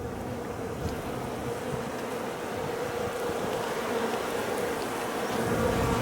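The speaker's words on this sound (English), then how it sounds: "Yeah, that's a small amount of bees." Honey bees buzz steadily inside a hive during a November inspection of a small, dwindling colony, a close, dense, continuous drone with no talking.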